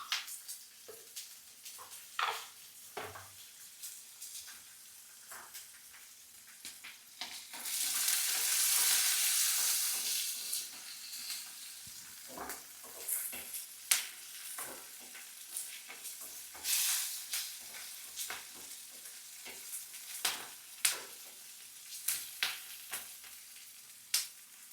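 Peanuts fry in a pan for an eggplant pickle, a close sizzle with clicking stirs and scrapes, swelling into a loud hissing burst partway through before settling back into scattered crackles and taps.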